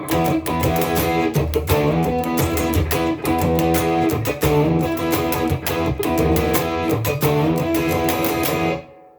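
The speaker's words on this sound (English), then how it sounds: "Most players crank the gain channel as much as they can" Electric guitar through an amp with the gain channel cranked and the master volume lowered, dense distorted chords played continuously and loud for about nine seconds, then cutting off abruptly.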